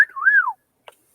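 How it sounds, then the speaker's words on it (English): A single human whistle, sliding down, then up and down again, is sent out in the woods to call Sasquatch, loud and close, followed by silence and one faint click. "Somebody wants to throw some whistles."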